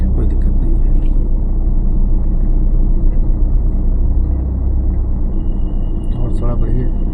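A car moves slowly forward during a driving lesson, with a low, steady engine rumble close inside the cabin and an instructor's voice talking over it.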